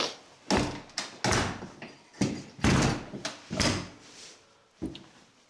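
A door is forced open with difficulty, a series of about nine loud rattling bangs and scrapes in an irregular rhythm, close by.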